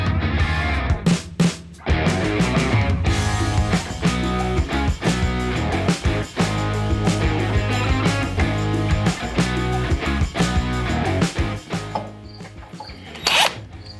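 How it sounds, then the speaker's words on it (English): Cutoff wheel slicing through a motorcycle air cleaner for a Sportster, loud close rasping grind in short repeated bursts with brief pauses. "we are going to use a cutoff wheel"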